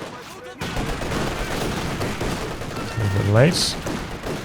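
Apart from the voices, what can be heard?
machine gun firing in the video game Company of Heroes 2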